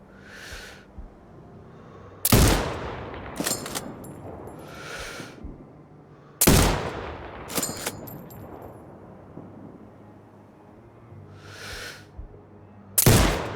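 Sniper rifle shots at targets in the video game Sniper Ghost Warrior Contracts 2: three loud, sharp cracks spaced several seconds apart, each followed by a rolling echo and faint clanks in a quiet outdoor ambience.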